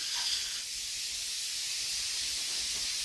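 Spray polyurethane foam insulation applied to an inverted ceiling, a steady broad hiss of the spray gun running continuously and close up, with no pauses and no voices.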